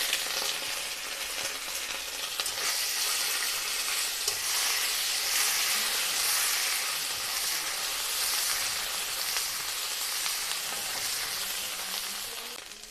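Ginger paste and turmeric, with whole garam masala, bay leaf and two dried red chillies, sizzle steadily in hot oil for a vegetarian ghugni base, a dense, even frying hiss that holds without pause, no voices.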